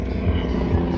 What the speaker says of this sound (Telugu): హెలికాప్టర్ పోతున్నది